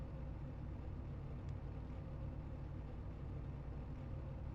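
A field of ARCA Menards Series stock cars in the iRacing game idle on the starting grid, a steady, even low rumble with no break and no talk.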